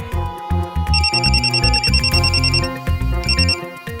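A telephone rings with a repeated electronic trill in a bursting pattern, heard over a dramatic music score with heavy low hits and swells.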